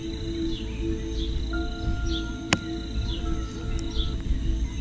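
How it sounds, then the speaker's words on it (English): Short video-game bird chirps in a VR game repeat every second or so over a steady ambient hum, with a sharp click partway through. "I can hear the birds in the game and also I can hear the birds in real life"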